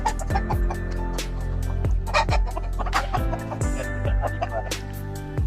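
Several KUB chickens cluck and squawk close by on a small home farm, overlapping calls with rising and falling pitch, busy and continuous with no talking.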